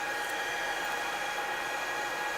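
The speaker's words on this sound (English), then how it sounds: "That is the sound of the Moog One when the fan first kicks in and it starts up" A Moog One synthesizer's cooling fan runs at startup as a steady, moderately quiet broadband whoosh, a constant airy hiss with no talking over it.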